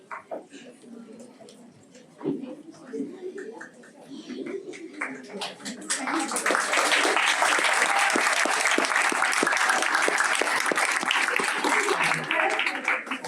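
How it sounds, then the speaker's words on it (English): Applause for a Mini Nobel Laureate award announcement at a school event, beginning as scattered clapping under voices and swelling into loud, sustained clapping from a crowd, with pigeons cooing faintly in the background. "Claps are for everyone"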